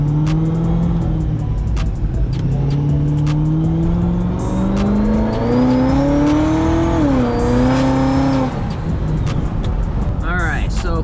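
Twin-turbo 427 Corvette engine, rough and loud at close range, revving and accelerating with rising and falling pitch through gears, heard continuously with occasional voices in the background.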